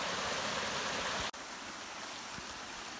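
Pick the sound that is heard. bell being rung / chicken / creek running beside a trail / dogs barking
creek running beside a trail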